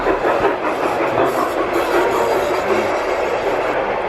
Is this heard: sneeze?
no